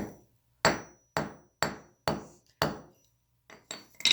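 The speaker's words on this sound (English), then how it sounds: "What about copper? What happens when I hit it with a hammer?" Sharp metallic hammer blows on a piece of copper, about eight separate strikes with short ringing decays, evenly spaced at first, then a pause and a quicker cluster near the end.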